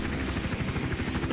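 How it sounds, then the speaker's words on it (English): Helicopter hovering nearby in the stealth video game Hitman Absolution, a steady low rotor thump and engine drone that holds continuously without voices. "we just have to wait for the helicopter to go away"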